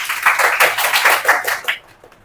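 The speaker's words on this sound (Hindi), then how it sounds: "तो सबसे पहले तालियों के साथ सिद्धांत का स्वागत करें।" An audience at a classroom or academic presentation claps to welcome a student presenter, a short burst of brisk, fairly loud clapping lasting about two seconds before fading out.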